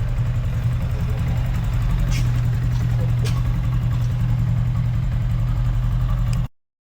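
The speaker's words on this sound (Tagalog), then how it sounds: "So, ayan na, nabuhay na ulit yung motor niya." A Yamaha Sniper 155 motorcycle engine idles steadily after repair, a constant close low hum with a few faint clicks and no clear talk.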